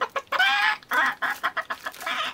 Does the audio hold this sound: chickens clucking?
yes